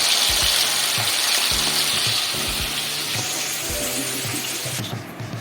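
Chicken leg pieces deep-frying in hot oil, a loud, dense, continuous sizzle and bubbling close by with small irregular pops, easing slightly toward the end.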